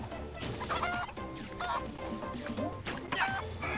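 Cartoon chickens clucking repeatedly in the mobile game South Park Phone Destroyer, a series of close, bright game-audio clucks and squawks over busy background game sound.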